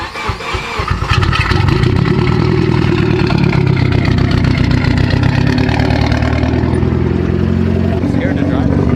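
A flooded Mitsubishi Evo engine cranks briefly, then catches and settles into a loud, rough, uneven idle close by, with a voice speaking over it.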